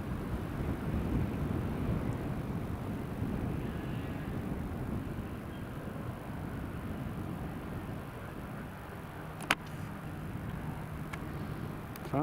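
A passenger airliner on final approach into Newcastle International Airport rumbles as a broad, steady, distant roar throughout, with wind buffeting the microphone and a couple of brief clicks near the end.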